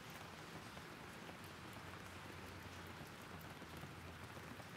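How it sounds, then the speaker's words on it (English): Steady, gentle rain falls softly and evenly, a quiet, unbroken patter that continues throughout without talk or thunder. "a silver rain continues to fall"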